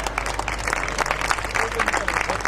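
At a Hindi poetry gathering in Seawoods, the crowd claps to welcome a guest onto the stage, with moderately loud, uneven applause over a low hum and a voice speaking through it.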